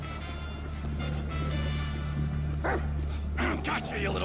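Dog in the video game GTA V giving a few short yips and barks over a steady low engine-like hum, with a voice talking throughout.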